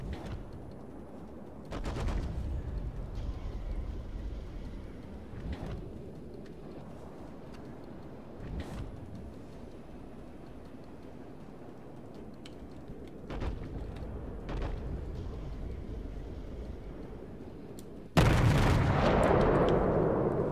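Naval guns on the light cruiser Yubari in World of Warships fire in spaced, booming salvos over the hum of the sea, with a sudden loud blast near the end.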